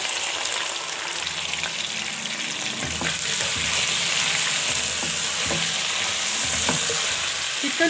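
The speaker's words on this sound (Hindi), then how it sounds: "चिकन को अच्छी तरह भून लेंगे।" Chicken pieces frying with onions and ginger garlic paste in a pot give a constant loud sizzle, broken by repeated scraping thumps of a spoon as the meat is stirred, heard up close without speech.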